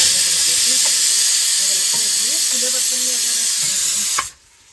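Rice with plenty of peas cooking in an open pot, giving a loud steady steamy hiss that fills the clip before dropping away abruptly near the end, with faint voices murmuring underneath.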